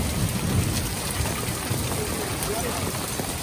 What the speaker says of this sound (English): we got a good old-fashioned thunderstorm right here in Alaska.